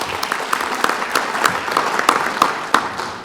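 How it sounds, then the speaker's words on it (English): An audience at an international forum on Korea gives a round of applause for Dr. Sumi, steady dense clapping with a few sharper individual claps standing out, lasting a few seconds. "let's give her one more round of applause"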